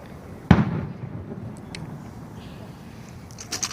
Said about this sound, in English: These are good fireworks.